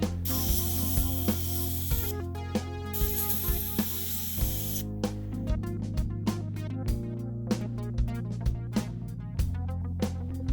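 An airbrush sprays yellow paint onto a giant prop plant, giving two bursts of breathy hiss partly masked by background music with a steady beat.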